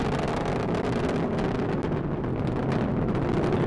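A Delta IV rocket's RS-68A engine roars steadily during ascent on a WGS satellite launch, a dense, continuous broadband rumble that stays loud and unbroken throughout.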